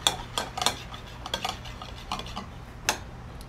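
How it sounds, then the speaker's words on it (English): A spoon quickly mixes orange juice into a citrus dressing for wahoo ceviche, producing a handful of close, light metallic clinks and taps in an irregular rhythm against a quiet background. "So we're just gonna give that a quick mix."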